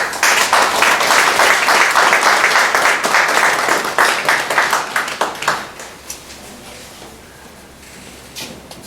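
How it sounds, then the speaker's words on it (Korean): Audience applause welcoming a speaker at a cooperative-movement talk, loud dense clapping for about five seconds that thins out into scattered claps and fades to near quiet. "큰 박수로 선생님 모셔주시기 바랍니다"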